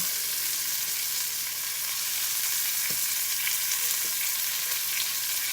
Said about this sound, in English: sounds like it's cooking up real good